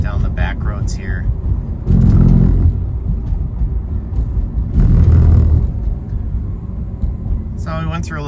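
A 2012 Mercedes-Benz SLK250 cruising on back roads, its low engine rumble swelling twice as it pulls away, with someone talking over the drive throughout.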